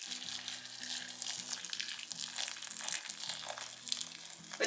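Boiling water poured over dry soya chunks in a home kitchen, a steady close splashing and hissing pour lasting the whole moment, with a low tonal hum underneath.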